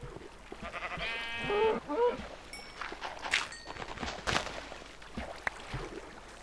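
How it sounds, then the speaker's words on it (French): Minecraft cows moo in a few short, wavering calls, low and fairly faint, mixed with game ambience and footsteps, while a voice talks over them. "Oh, des vaches."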